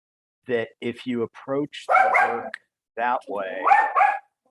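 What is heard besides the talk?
dog barking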